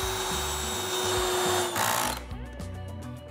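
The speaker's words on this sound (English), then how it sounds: "I'm gonna tie everything together with some of these 3-inch deck screws" A power drill drives 3-inch deck screws into redwood for a backyard garden trellis, a steady loud whine for most of the stretch that cuts off partway, followed by lighter clicks and handling noises.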